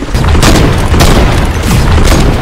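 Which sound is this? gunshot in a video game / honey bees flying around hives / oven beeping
gunshot in a video game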